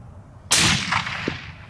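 A single loud, sharp report from a Remington 700 rifle in 300 Win Mag fired at a 200-yard target, followed by a brief rolling echo that decays over about a second.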